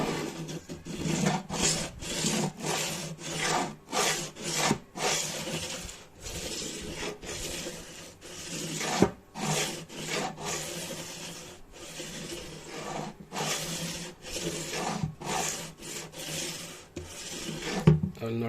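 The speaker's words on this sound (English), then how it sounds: "So let's sand the fretboard down with it." Very rough sandpaper rubs over a guitar fretboard in rapid, regular back-and-forth strokes, a close, steady rasping scrape that continues throughout with brief pauses.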